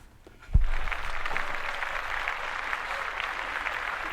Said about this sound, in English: round of applause for Courtney Kemp